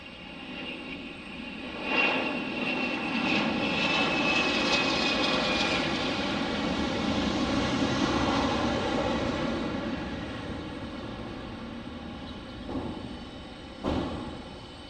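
A Delta Boeing 717 airliner at Detroit DTW airport, its engines a steady, broad roar that swells and holds for several seconds, then fades, with no talking.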